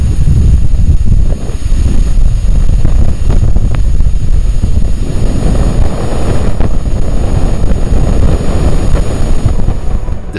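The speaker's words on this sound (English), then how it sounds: "The faint sound you just heard is coming from the solar wind interacting with Venus" Sonified solar wind striking Venus, captured as spacecraft data by BepiColombo, comes through as a continuous rough, roaring rumble like gusting wind or engine noise, steady and fairly loud with no talk.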